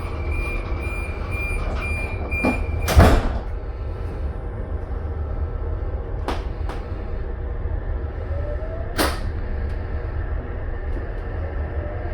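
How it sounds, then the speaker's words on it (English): A steady rumbling NSW TrainLink Oscar train interior with a sharp sliding thud around three seconds and another near nine seconds as intercarriage doors close, plus a faint tone. "watch the intercarriage doors slide shut gracefully"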